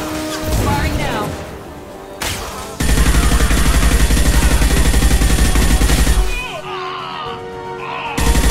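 Gunfire in the Mass Effect 2 video game, a dense, loud sustained burst of rapid shots filling the middle of the clip, with more chaotic crashes and battle noise around it.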